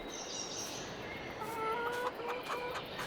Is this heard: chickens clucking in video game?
yes